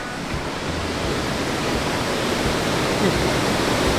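A loud, continuous rush of falling water, dense and steady throughout, filling the scene with broadband roar.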